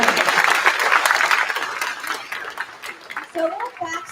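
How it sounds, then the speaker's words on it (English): Applause for Caleb at a fifth grade chorus spring concert, loud and dense at first and then thinning out, with a voice and some talk coming through as the clapping fades. "Give Caleb another huge round of applause."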